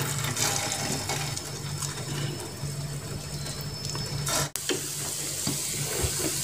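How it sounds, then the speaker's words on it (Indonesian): Egg-dipped snack frying gently in a pan over low heat, a steady soft sizzle with a low hum running underneath and a brief dropout partway through, no voices. "Lalu goreng dengan api kecil ya."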